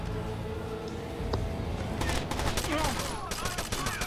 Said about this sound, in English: I've got this weird glitch where there's someone constantly shooting a gun.